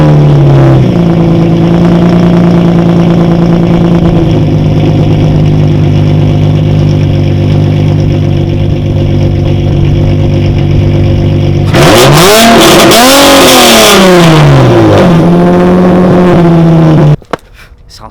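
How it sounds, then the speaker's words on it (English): A loud turbocharged Nissan 350Z engine idles with a deep steady rumble, then revs sharply several times in rising and falling sweeps through its exhaust before cutting off abruptly. "I need to give you guys a little bit of a rev so you can hear the exhaust setup"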